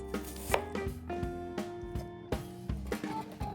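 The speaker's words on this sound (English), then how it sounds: "Chop to medium-sized Spanish or red onions into wedges" A kitchen knife chops medium Spanish or red onions into wedges on a board, a series of sharp, irregular close-up knocks against wood with no talking.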